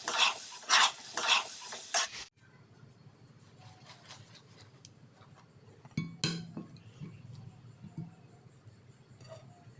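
Black chicken with sauces is stirred in a pan: a few loud scraping strokes at the start, then quieter sizzling with occasional clinks and scrapes of a utensil against the pan.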